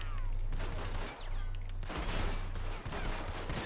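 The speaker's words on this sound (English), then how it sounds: "I'll just shoot out the lights." Several gunshots in Red Dead Redemption II, fired as a few close, loud cracks at irregular intervals over a constant low hum, with brief dips between bursts.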